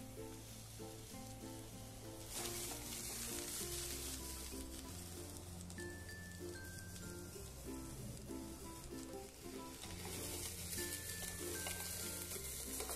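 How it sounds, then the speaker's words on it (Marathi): Chopped onions, ginger and garlic sizzle steadily in a little oil, a continuous crackling fry with faint clinks and music-like tones running beneath it throughout. "जे आपण कांदे कापून घेतलेले आहेत ते इथे थोड्याशा तेलात परतून घेणार आहोत आणि त्याच्यामध्ये आलं लसूणही टाकणार आहोत"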